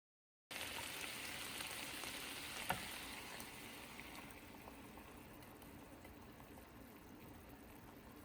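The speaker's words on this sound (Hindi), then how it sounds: "चिकन मैंने इसमें फ्राई पैन में डाली है, चूल्हा ऑन कर दिया है।" Chicken frying in a frying pan on a stove, heating so its own juices cook off, giving a steady broadband sizzle with a single brief pop near the start and no talk over it.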